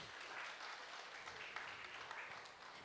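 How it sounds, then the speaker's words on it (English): An audience at an entrepreneurship faculty development session applauds steadily in a hall, a soft, even wash of clapping heard from a distance. "A huge round of applause for him and the team."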